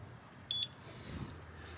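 A Bluetooth real estate lockbox gives a short, bright electronic beep as it unlocks, heard once and fairly close against a quiet room background.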